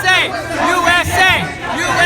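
A protest crowd at Berkeley, where police move in to separate opposing sides, makes a loud, close babble of overlapping voices and chatter, with individual speakers rising above the hubbub.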